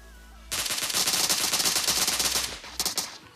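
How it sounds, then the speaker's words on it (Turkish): A rapid, loud burst of automatic gunfire in the mobile battle royale game PUBG Mobile runs for about two seconds, then a short second burst follows after a brief gap. "Buradan mermi gidiyor mu? Gidiyor."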